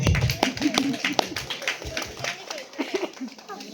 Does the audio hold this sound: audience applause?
yes